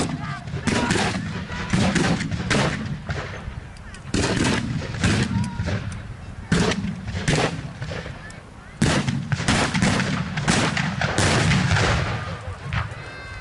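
Gunfire crackles and booms through a battle reenactment: repeated sharp shots and heavier blasts, including a fuel dump explosion, sound loud and close, with a commentator's voice talking over the din.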